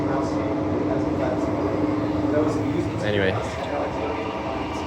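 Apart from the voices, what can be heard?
A-series train on the Armadale line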